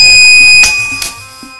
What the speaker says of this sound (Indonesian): Masuk buzzer ya.